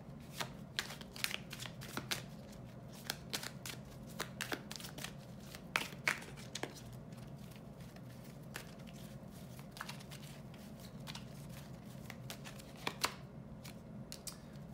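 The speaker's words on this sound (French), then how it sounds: "Je vais recouvrir cette carte." Tarot cards are handled and laid down on a table in a steady run of soft flicks, shuffles and taps, close and quiet, with no talk.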